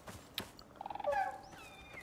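A giant ostrich-like bird in the survival video game Icarus gives a short burst of rapid clucking gobbles, followed by a brief higher squawk, all moderately near against quiet outdoor ambience.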